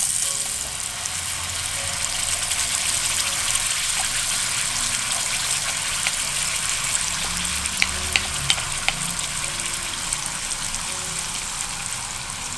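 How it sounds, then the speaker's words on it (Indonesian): Spice paste for mie jawa sautés in a small amount of hot oil, making a continuous bright, close sizzle with the occasional scrape and tick of a spatula, and nobody speaking. "Tumis bumbunya sampai kayak gini ya"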